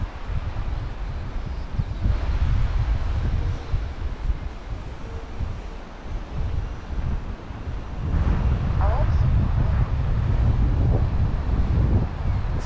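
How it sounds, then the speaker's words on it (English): Strong wind buffets the microphone with a heavy low rumble, gusting louder and softer in waves throughout. "it's getting too windy"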